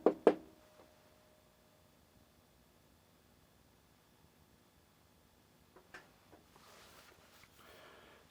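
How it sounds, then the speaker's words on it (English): A couple of sharp knocks on a table sound close and loud right at the start, then the room goes nearly silent with only faint handling noises later on. "Knocking on this table right here."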